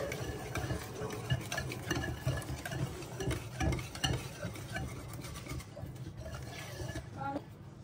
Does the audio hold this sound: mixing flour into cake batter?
yes